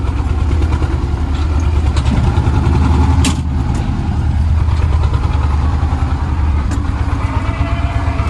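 A T25A tractor engine idles steadily up close, a continuous low throbbing rumble that holds even throughout, with a brief sharper clatter partway through.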